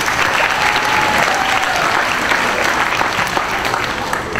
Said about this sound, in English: Let's give her one more applause.